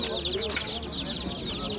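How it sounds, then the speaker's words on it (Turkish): Leghorn chickens cluck and chatter at a busy outdoor poultry market, a dense layer of overlapping bird calls with steady crowd noise beneath. "Bunlar ligorin arkadaşlar"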